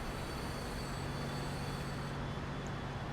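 Train rolling along in the Transport Fever video game, a faint, steady rumble of wheels and rail noise with a soft high whine, continuous with no talk.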